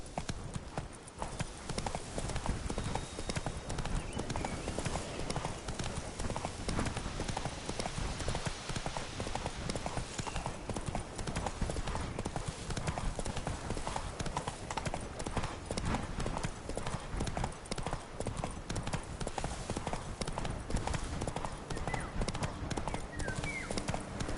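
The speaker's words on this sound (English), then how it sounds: "Whoa there, Roach" A horse gallops in The Witcher 3, with continuous rhythmic hoofbeats at a fast, steady pace over game ambience, and a voice occasionally speaking.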